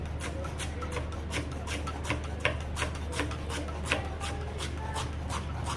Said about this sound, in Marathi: कोथिंबीर चिरून घेते.